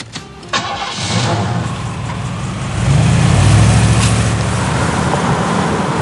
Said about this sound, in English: propelled by the exclusive digital fuel-injected HT4100 V8 engine